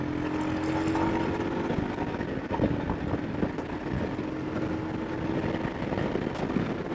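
A Royal Enfield Himalayan motorcycle accelerating hard during a top speed run, its engine drone steady and loud under heavy wind rush, with no talk.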